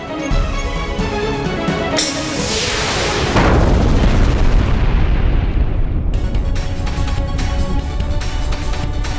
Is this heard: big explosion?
yes